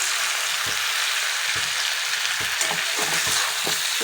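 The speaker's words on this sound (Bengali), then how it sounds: "এটাকে একটু শুধু কষিয়ে দিতে হবে ভালো করে" Potato and onion curry sautéing in a pan, a constant bright sizzle with repeated low thumps and scrapes of stirring throughout.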